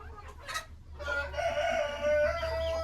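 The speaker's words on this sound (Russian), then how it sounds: "курочка уже сама сюда пришла и сама сидит уже в гнезде" A hen sitting in a nest clucks and croons close by, with a brief higher call, over a low steady hum in the background.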